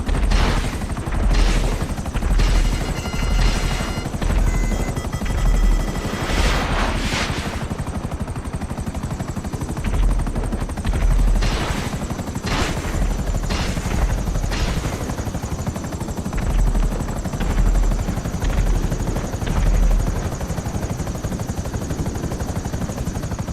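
A Savage attack helicopter in GTA 5 Online thrums loudly and continuously, its rotor beating under repeated bursts of rapid cannon fire and occasional heavy blasts.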